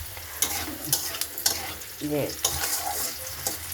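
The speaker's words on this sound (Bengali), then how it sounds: "মশলাটা ভাজছি, এখানে দিয়েছি শুকনো লঙ্কা, সম্বার, জিরে সম্বার, তেজপাতা, পেঁয়াজ।" Spices frying in a pan with dried red chili, cumin, bay leaf and onion, a steady close sizzle with stirring scrapes and clinks throughout, a brief word spoken at the start.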